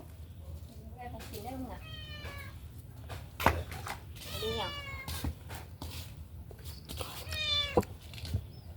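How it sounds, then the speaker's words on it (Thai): A cat meows repeatedly near the microphone, several clear rising-falling cries spread through the stretch, while people talk quietly in the background over low outdoor hum. "แมวเข้าไปใกล้อ่ะ"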